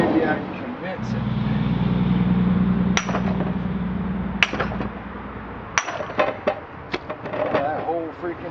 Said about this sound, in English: Use my sledgehammer.